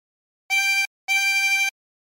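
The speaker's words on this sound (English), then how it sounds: "Blow into six twice." Two blown notes on hole six of a harmonica, a short one then a longer one, both the same bright reedy pitch, close and clean with silence around them.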